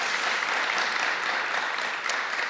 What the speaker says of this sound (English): You got a nice round of applause.